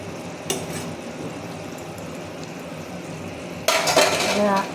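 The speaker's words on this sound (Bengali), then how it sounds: "এবার আমি ঢাকনাটা সরিয়ে দেব" A metal lid clanks against a pot of simmering amudi fish curry, first with a short knock, then a louder rattling scrape as it comes off over a low bubbling background.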